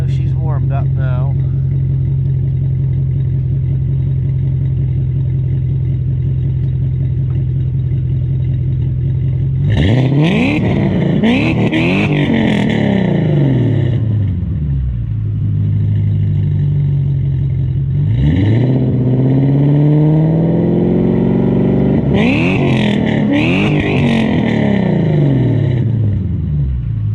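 A tuned BMW 540i E39 with a custom exhaust idles with a steady low hum, then revs sharply in three bursts that rise and fall back to idle, loud and close.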